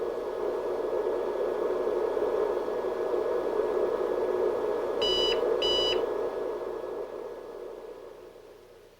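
Two short electronic beeps from a 1987 IBM Personal Typing System computer's power-on self-test sound close together over a steady machine hum and fan noise.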